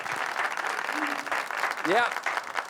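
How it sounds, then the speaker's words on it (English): Applause from a talk show studio audience continues while a host's voice talks over it, with a brief rising whoop near the end. "Jerrmy Gawthrop, let's give it up, Jerrmy."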